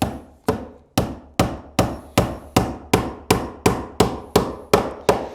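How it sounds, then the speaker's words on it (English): A hammer drives staples to hold electrical house wiring in place. About a dozen sharp, evenly spaced blows ring out close and loud, each decaying quickly before the next. "we staple these wires in place so that they don't get pulled apart"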